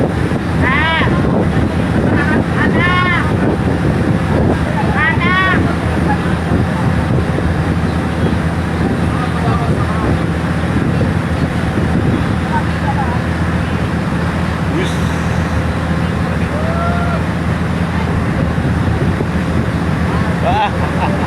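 Passenger boat under way on Lake Toba, a steady loud engine drone mixed with wind and water rush throughout, with faint chirps and people's voices now and then over it.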